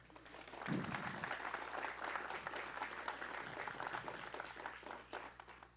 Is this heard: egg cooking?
no